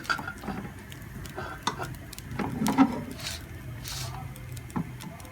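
Thick beef korma with gravy poured over part-cooked rice in a kadhai for beef masala biryani, giving soft wet plops and a low sizzle, with faint scraping of a spoon against the pan.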